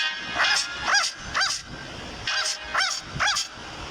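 A voice imitates a dog barking, repeated in two bursts of three yips with a short pause between them, close and clear.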